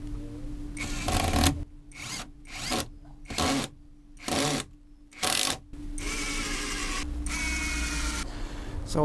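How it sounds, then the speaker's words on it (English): A power screwdriver drives screws through recycled timber cleats into a ground-mount solar panel frame, running in several short whirring bursts with brief pauses, then a longer sustained run near the end. "So I'll go in underneath and screw some of these cleats on."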